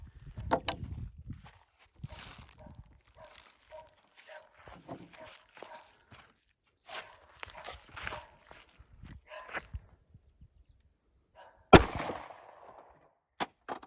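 9mm pistol firing reduced-recoil 90 gr XTP loads over a chronograph outdoors, a couple of sharp reports, one loud crack near the end, amid scattered handling noises and voices talking.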